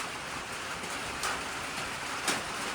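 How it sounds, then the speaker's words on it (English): Steady rain falls on a log cabin in the woods, a dense continuous hiss with a couple of louder drips or splashes standing out, close and even throughout, with no voices. "Look at the rain, my gosh."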